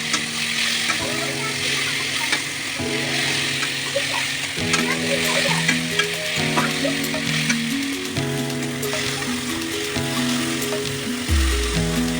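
Tomatoes and green chilies sizzle in a hot pan for a black gram dal, a steady frying hiss broken by clanking stirs and some tonal background sounds.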